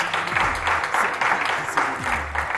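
A studio audience applauds the winning woman of a French health quiz show, with a burst of close, dense clapping that swells in waves under faint music.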